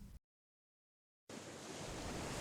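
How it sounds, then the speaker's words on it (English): Ocean waves wash against docks in a steady, broad roar of surf that rises slightly in loudness after a brief burst and a second of total silence. "The ferocious waves of the ocean splashed across the docks"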